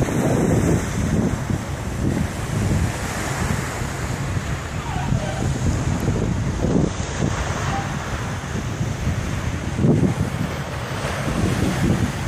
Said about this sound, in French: Écoutez la mer